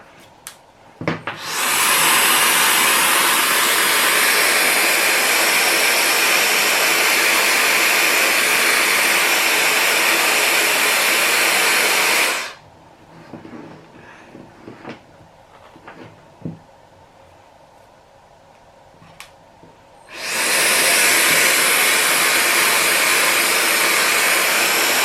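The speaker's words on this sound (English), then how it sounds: "I do love how this sucks up the hair with no efforts, and it just sucks it right up and curls it" An automatic hair curling wand drawing in and curling a lock of hair, a loud steady motor whir running about eleven seconds, a quieter stretch of handling clicks, then the whir starting again.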